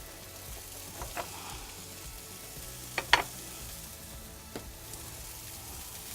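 Prawns sizzling in a wood-fired oven, a quiet steady hiss with a few sharp pops and crackles, one louder burst in the middle, no talking.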